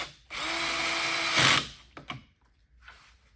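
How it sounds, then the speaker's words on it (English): A cordless drill with its clutch set low drives a screw into a Blum Tandem undermount drawer slide: a steady whirring burst, a louder rise, then the clutch clicks off, followed by a few faint handling knocks. "you have to put the clutch on relatively low so it doesn't drive the screw too far"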